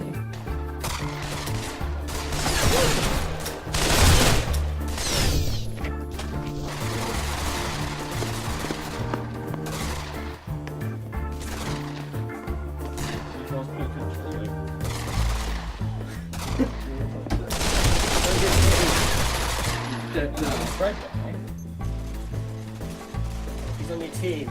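Gunfire crackles in the VR shooter Pavlov on the Dust 2 map, with repeated bursts and rapid volleys over several seconds while players talk excitedly.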